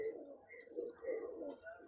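Pigeons coo in low, throaty, repeated calls close by, while a person speaks in the background.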